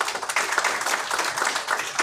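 A conference audience in Cameroon, gathered for a private-sector financing event, breaks into sustained applause of many hands clapping together, dense and steady, with no voices over it.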